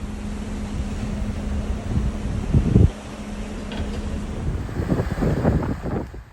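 Strong wind roars and buffets the microphone steadily on the deck of the cruise ship Carnival Pride, with a low mechanical hum and the wash of waves beneath it.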